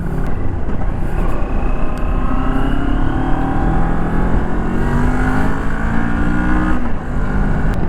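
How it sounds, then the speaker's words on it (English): A Moto Morini X-Cape 650X motorcycle engine runs loud and steady at high revs with some vibration, its droning whine wavering slightly up and down for the whole stretch. "The engine is actually going a little vibey when I go to the higher revs."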